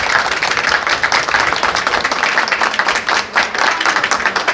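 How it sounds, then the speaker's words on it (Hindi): Applause for a young woman who performed roadside CPR on a collapsed man, loud, close clapping with a fast irregular rhythm, briefly dipping midway before resuming. "ये तालियां तो बनती ही है"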